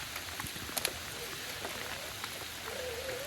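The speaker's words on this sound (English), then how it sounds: "it is raining like crazy back here" Heavy rain drums steadily on a muddy trail during a radio-controlled truck mud run with a Redcat Gen7 and a Team Associated CR12 Tioga, a dense constant hiss with scattered sharper drop hits and no talk.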